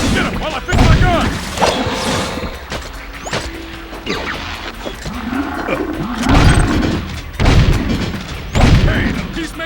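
Gunfire and explosions in the game Jak II, heavy booming blasts and sharp shots in bursts, with repeated thuds and crashes mixed through loud game action.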